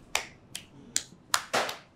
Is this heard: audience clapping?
yes